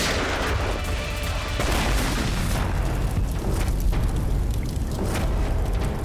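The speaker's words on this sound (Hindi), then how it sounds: "जैसे बैग से ये नोट बाहर गिरे, बॉम्ब ट्रिगर हो गया। ये था दूसरा बॉम्ब।" A booby-trap bomb goes off in a TV crime drama, a dense, sustained roar of blast and rumbling debris that fills the whole moment with no speech over it.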